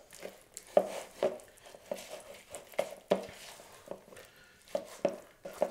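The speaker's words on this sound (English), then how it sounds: "We're gonna mix everything really good." Broccoli and cauliflower salad with bacon, cheese, mayonnaise and sour cream being stirred in a bowl, giving repeated scraping and clinking utensil strokes at an uneven rhythm, close and moderately loud with no talk.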